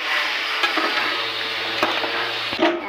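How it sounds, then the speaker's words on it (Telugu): Chili powder and turmeric fry in hot oil with a steady, close sizzle, broken by a few soft stirring scrapes and light clicks of a spoon against the pan. "కారం, పసుపు వేసి బాగా వేగనిస్తామండి"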